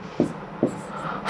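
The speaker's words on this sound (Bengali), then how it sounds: "আমি এই পাশে লিখে দিই" Two short, sharp strokes of writing on a board in a Bengali-language BCS exam prep grammar lesson, each a quick scratchy tap about half a second apart, fairly faint against a quiet room.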